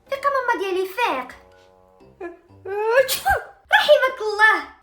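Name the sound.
child sneezing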